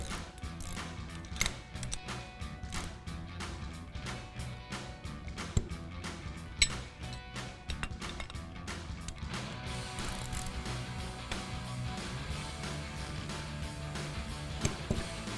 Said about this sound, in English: Then we'll use our 15 millimeter socket and our 18 millimeter wrench. Go ahead and tighten those back up.